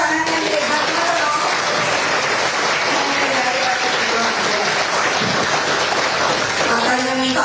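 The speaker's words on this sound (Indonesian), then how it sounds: "Ayo tepuk tangan yang hebat loh." A large political audience breaks into sustained, dense applause that fills the room at full volume, with a voice faintly audible beneath the clapping.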